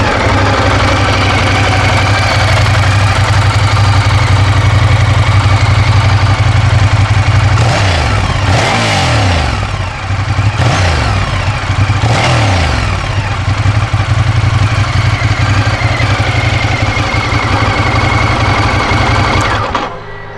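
A 2018 Ducati Diavel Carbon fires up and settles into a loud, close, lumpy twin-cylinder idle, with a few quick throttle blips in the middle before the engine cuts off at the end.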